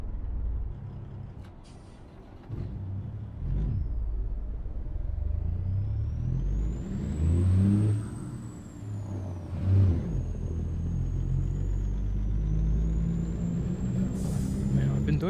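A Peterbilt 389 truck in American Truck Simulator gives a deep, steady engine rumble that rises and falls with gear changes, joined by hissing air-brake releases and a faint high whine, with talk under it.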